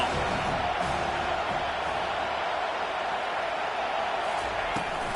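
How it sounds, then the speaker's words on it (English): A packed stadium crowd at a Nebraska football game roars in a steady, dense wash of noise on third down, loud and sustained, with a commentator talking over it. "Decibels rising as the crowd gets behind this defense on third down."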